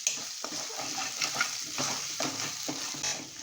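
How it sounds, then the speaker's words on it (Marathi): Onion with ginger and garlic sautés in a pan, its bright sizzle broken by quick spatula scrapes and stirs at close range. "कांदा आणखी जरा जास्त छान असा गुलाबी परतला गेलेला आहे"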